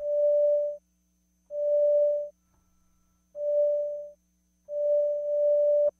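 A steady synthesizer tone, its amplitude following an envelope with the LFO off, swells in and cuts off in four separate bursts, each fading up and down smoothly, with short silences between them.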